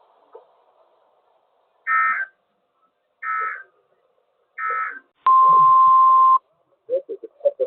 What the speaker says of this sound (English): This is the test of the Weather Service weather radio warning alarm for the KZZ 47 listening area of Northwest Ohio.